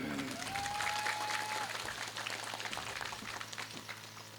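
A gathering at an Islamic sermon in Kalimantan breaks into sustained applause, a steady wash of many hands clapping at a distance, fairly faint, with a brief whistle-like tone rising near the start.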